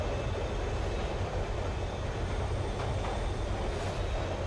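A passenger train rides along in the video game Train 113, a low, steady rumble of the carriage rolling on rails, continuous and fairly quiet, with no voices.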